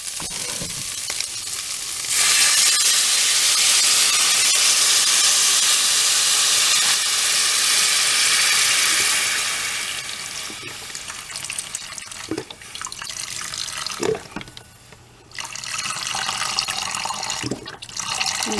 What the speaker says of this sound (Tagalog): Go ahead and add chicken broth